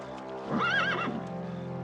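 A horse whinnies loudly with a rising, wavering neigh lasting about half a second, over a steady low rumble and faint hoof clatter.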